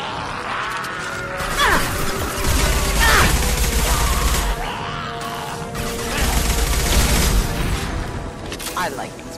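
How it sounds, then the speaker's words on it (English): Explosions and bursts of gunfire from the video game Mass Effect 2 crash and boom repeatedly in loud layered waves, with someone talking over the combat. "I like explosions."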